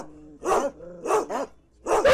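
Several dogs barking in bursts at a makeshift shelter of boards, pipes and tarps in Wythe County, Virginia, with three or four loud, close barks separated by short pauses and no talking.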